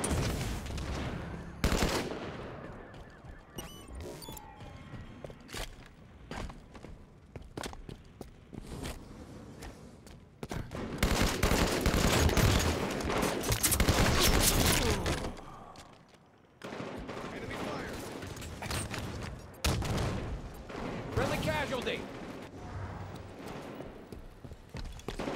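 Video game combat fills the clip with bursts of gunfire, rapid automatic shots and explosive blasts from a thrown grenade, loud and continuous with brief pauses; no talk is heard.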